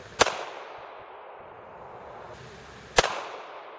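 Two sharp firearm shots ring out at a shooting range, one right at the start and another about three seconds later, each a loud crack with a short decaying tail over quiet background hiss.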